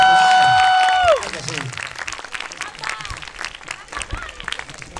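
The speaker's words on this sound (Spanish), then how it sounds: "¡Venga, otro fuerte aplauso!" Strong crowd applause at a manga convention, following a performance, rising after a sustained sung or synth note fades and continuing as dense, loud clapping with scattered voices.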